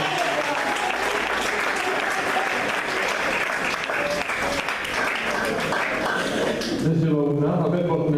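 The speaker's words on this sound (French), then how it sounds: "Tous vos applaudissements" Wedding guests burst into sustained loud applause, dense clapping from a crowd lasting several seconds before tapering off as a voice begins speaking over the tail.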